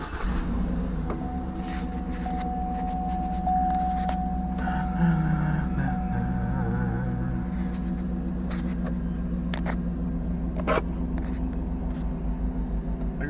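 A Cadillac Escalade engine idles after a cold start while warming up, a steady low rumbling drone with faint clicks and a brief higher whine, continuous and close, with no talk.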